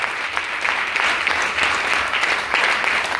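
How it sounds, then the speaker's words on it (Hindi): An audience at a CEES program event in Meerut claps steadily, a dense continuous burst of applause from many hands, loud and close throughout. "वो अपने लिए ताली बजा दो"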